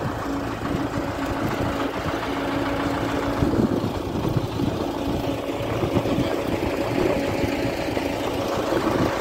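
A Ford 6600 tractor engine idles close by, a low, steady rumble without letup, a coarse mechanical chug with no voices.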